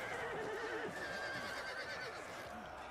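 Cavalry horses in Total War: Attila whinny and neigh over a busy battlefield din, with faint hoof clatter mixed into the steady noise.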